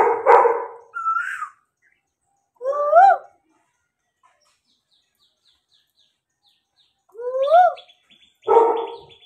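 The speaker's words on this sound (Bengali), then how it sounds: "ওটা বসন্ত, এই দা বসন্ত কোকিল ডাকছে দেখ" An Asian koel calls in spring with clear, rising whistled notes, repeated in separate bursts with long silent gaps between them, ringing out fairly close.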